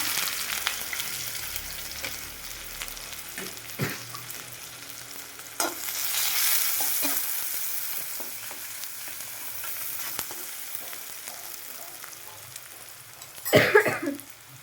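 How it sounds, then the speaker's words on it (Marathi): Onion dropped into hot oil with mustard seeds and cumin, a steady broad sizzle and frying hiss with occasional stirring clinks and a louder crackling burst near the end, no talk. "जिरं झालं ना मग कांदा टाकून घ्यायचा."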